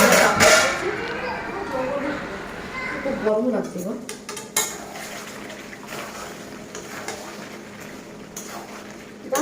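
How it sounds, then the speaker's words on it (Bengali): Chicken and spices are stirred in a metal pan, with scraping and clinking of a spoon against the pan and a soft frying sizzle, busiest at the start and then quieter, intermittent. "একটু ভালো করে নাড়াচাড়া করবো সব জায়গা মশলাটা লেগে যাবে"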